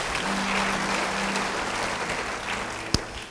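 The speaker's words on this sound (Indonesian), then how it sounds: "beri tepuk tangan buat Tuhan." Congregation applause in a church service, a soft diffuse wash of clapping heard from a distance at low level, with a faint steady hum underneath and one sharp close tap near the end.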